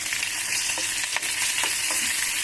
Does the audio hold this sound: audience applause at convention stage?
no